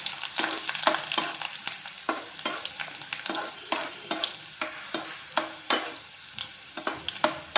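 Garlic sizzles and fries in hot oil as it is stirred around a pan for spinach curry, a steady crackling hiss broken by repeated scraping strokes of the spoon, close and moderately loud with no talking.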